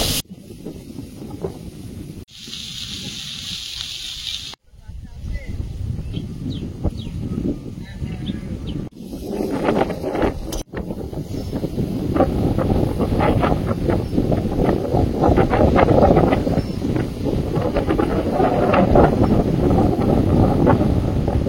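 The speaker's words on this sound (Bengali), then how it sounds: "আজকে এত জোরে হাওয়া বইছে, জমির জল নদীর মতো ঢেউ খেলছে।" Strong wind gusts across flooded fields, a steady broad rush with microphone buffeting that builds louder and fuller over the second half.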